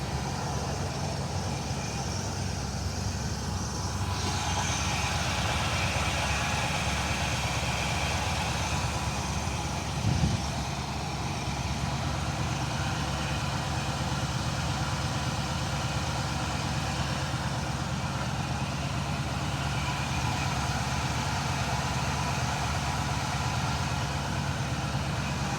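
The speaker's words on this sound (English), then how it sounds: "Engine sounds really nice and tight and good." A restored 1973 Chevrolet Monte Carlo with vintage air conditioning idles steadily and evenly, a low continuous engine hum held at a constant level throughout, with no talk over it.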